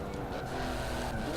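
A Porsche race car in Forza Motorsport 7 roars steadily at high revs, a loud continuous engine drone with faint tyre noise, filling the whole moment without pause.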